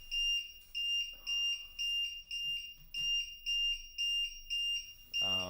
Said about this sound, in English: it's this voltage monitor that beeps when the voltage of a cell drops